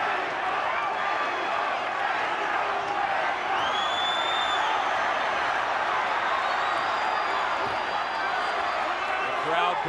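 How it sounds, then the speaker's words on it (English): Boxing arena crowd in Ricardo Mayorga vs Fernando Vargas fight cheering in a steady dense roar with scattered whoops, under a commentator's voice. "The crowd building support."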